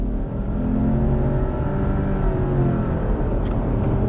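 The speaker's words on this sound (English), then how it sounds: "you can see the power of the turbocharged flat 4 engine that we have here" A 2021 Subaru Outback XT Onyx Edition with a turbocharged flat-4 engine accelerates hard under throttle, a steady loud engine drone rising in pitch over about four seconds, heard from inside the car.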